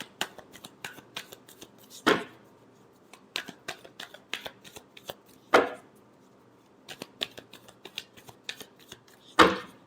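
Tarot cards are shuffled by hand, giving quick papery riffles and flicks close up. Three louder cascading bursts break through a string of smaller taps, with no talking.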